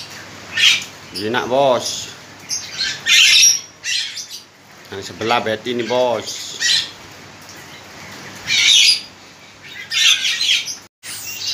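Birds in a bird shop, including Jalak Hongkong, give loud harsh squawks and chirps in repeated bursts close by, while someone talks in between.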